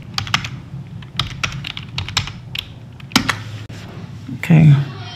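Someone types on a computer keyboard to log in, with quick bursts of close, crisp key clicks separated by short pauses and a faint voice in the background.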